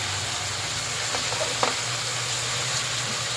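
Food frying and being stirred in a pan while cooking sardines with a spicy sauce, a steady sizzle throughout with a few soft scraping knocks of the utensil midway, no one talking.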